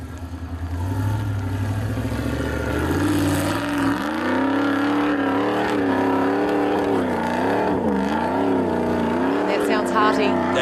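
A 4x4 trials vehicle at a New Zealand event in Feilding, engine droning and revving as it labours up a steep hill, loud and close with rising and falling engine pitch, while spectators talk over it.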